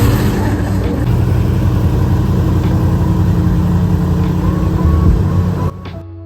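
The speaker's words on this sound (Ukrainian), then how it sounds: "ззаду нього знаходиться вентилятор, який жене повітря і рухає човен" A loud, steady airboat engine drone with the whooshing roar of its rear propulsion fan, running continuously close by before abruptly cutting off near the end.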